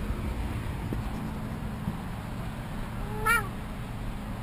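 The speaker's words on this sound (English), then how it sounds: "Meow." A single short meow from a cat comes at a distance, faint over steady wind and ambient hiss, amid a quiet outdoor setting at an RV or van camp.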